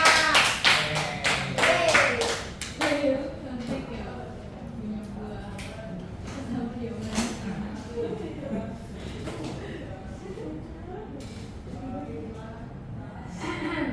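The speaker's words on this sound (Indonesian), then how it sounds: "tepuk tangan buat Monoga." A classroom of students applauding, a burst of dense clapping over the first few seconds, then scattered claps and taps while people talk and murmur.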